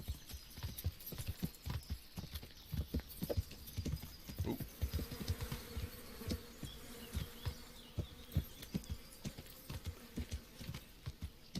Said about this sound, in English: Those are bees.